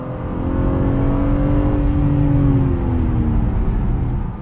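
A 2021 BMW M3/M4 engine and exhaust pull hard under acceleration, a loud continuous rising growl that climbs steadily in pitch through the gears, close and dominant with no voices.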